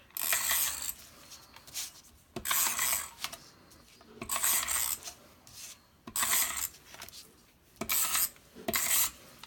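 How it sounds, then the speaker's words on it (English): An Elmer's tape runner rasps repeatedly against a card at close range, in four or five separate strokes, each a bright scratchy pull followed by a short pause. "Using the Elmer's tape runner, we're going to start off taping to our card first."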